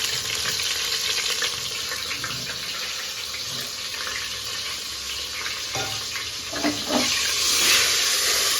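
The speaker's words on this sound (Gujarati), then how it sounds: "થોડું પાણી નાખી દેવાનું અંદર." Water hits a pan of frying stuffed brinjal masala, giving a steady hiss and sizzle with a few louder splashing bursts near the end.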